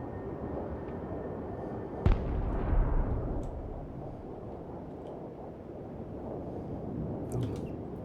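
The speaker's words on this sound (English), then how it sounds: "Airstrike is go for effect." Airstrike explosions in the Broken Arrow war game: one sharp, heavy blast cracks out over a steady rumbling battle ambience and rolls off into a long low-frequency tail, with faint distant thumps afterward.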